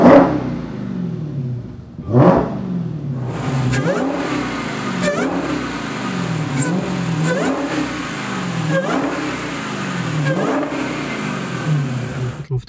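A Dodge Challenger Hellcat engine fires up with a sharp starter burst, then revs repeatedly in a steady series of rising and falling throttle blips, loud and close.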